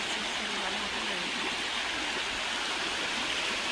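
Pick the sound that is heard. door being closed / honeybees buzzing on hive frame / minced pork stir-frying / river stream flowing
river stream flowing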